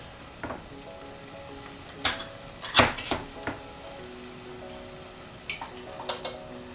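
Chopped tomatoes from two 400 g tins go into a hot pan of vegan lentil bolognese, giving a steady sizzle broken by several sharp metallic clinks and scrapes of a spoon against the pan, close and moderately loud.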